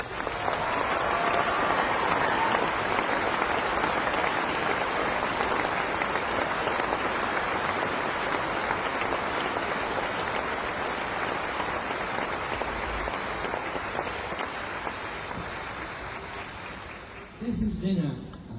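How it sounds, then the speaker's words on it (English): Concert crowd at Saratoga Springs Performing Arts Center applauds in a long, dense wash of clapping that slowly tapers before a voice starts talking at the very end. "so how about a round of applause for Barry Tramp?"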